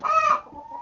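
A single hen gives a short, loud squawking cluck close by, trailing into a softer low murmur.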